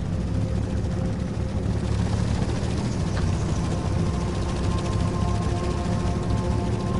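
Helicopter chasing the player in the video game S.T.A.L.K.E.R. Lost Alpha: a steady, loud low rotor and engine drone runs unbroken throughout, with no talk over it.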